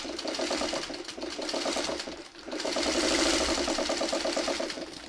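A sewing machine stitching fabric, its needle running in a fast, even mechanical patter at close range, briefly pausing midway before starting up again.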